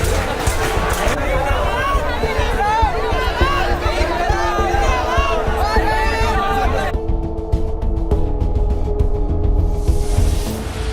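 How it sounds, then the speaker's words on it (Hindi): A dense, jam-packed crowd at a protest in India, forming a loud, steady wall of overlapping voices and chatter throughout, with no break in the noise. "इतनी भीड़ में जैम पैक्ड लोग बस भरे हुए थे"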